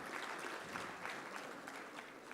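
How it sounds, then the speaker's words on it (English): Applause from a crowd, steady rapid clapping throughout, heard at a low level as if from across a hall. "Please welcome him with a round of applause."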